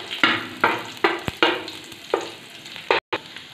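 Food fries in ghee in a pan with a steady sizzle, punctuated by a series of sharp, evenly spaced scraping strokes as it is stirred and turned, with no talking.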